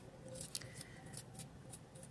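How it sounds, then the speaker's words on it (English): Soft, crisp snips and cuts repeat quickly as vegetables, including green onions, are chopped for a pot, faint and close with a quiet room hum underneath. "Cutting up the vegetables, put in the pot."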